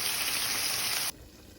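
Meatballs simmer in sauce in a pan with a close, steady sizzling hiss that cuts off abruptly about a second in, leaving a faint background hum.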